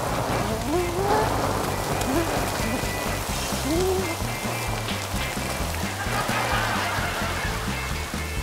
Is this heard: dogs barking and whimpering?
no